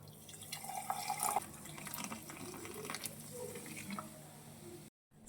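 Soda pours into a lemon mojito glass with sugar and lime, a faint, close fizzing trickle with small drips that stops abruptly near the end.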